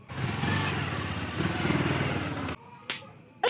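A motorcycle engine runs nearby with a steady, rumbling drone for a few seconds, then drops away and leaves a few sharp clicks and taps.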